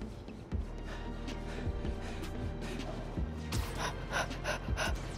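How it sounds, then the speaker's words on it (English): A character gasping and breathing heavily in Spider-Man: Miles Morales, repeated audible breaths over a low game soundscape with faint music, fairly quiet and without speech. "Why are you freaking breathing so hard?"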